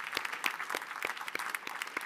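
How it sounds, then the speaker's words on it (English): A crowd at a donation announcement event claps in a short, quiet patter of applause, with no one talking over it. "definitely deserves another clap"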